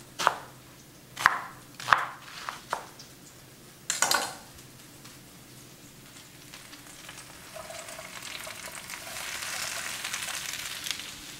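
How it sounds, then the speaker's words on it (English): A knife roughly chops onions on a board in several sharp, uneven thuds, then a pan takes over with a soft, rising sizzle as the pieces cook. "So I'll roughly chop my onions as well and then put them in the pan."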